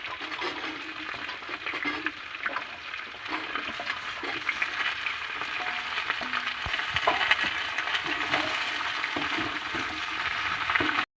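Beans, carrots and cauliflower fry in hot oil for a vegetable biryani, giving a steady, close crackling sizzle with occasional soft scrapes of stirring and no voices.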